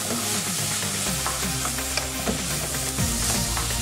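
A Scotch-bonnet pepper mixture sizzles loudly in a pan as it is stirred, with close scraping and clacking of the spoon over a continuous frying hiss and a low steady hum underneath.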